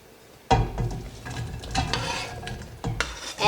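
Onion, then carrots and celery, dropped into hot olive oil in a soup pot, a loud sudden sizzle followed by spoon stirring and scraping, with the frying hiss continuing throughout.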